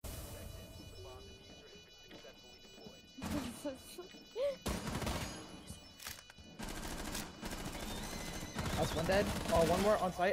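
Bursts of gunfire in Rainbow Six Siege come in sharp, separated volleys, with thuds and crashes between them. Quieter gaps and some game noise sit around the shots, and the last few seconds are louder and denser.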